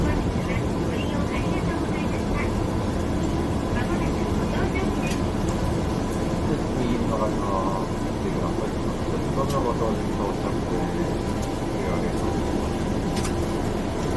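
Inside an airport shuttle bus heading out to the airplane, a steady low engine and road rumble fills the ride while a voice talks over it.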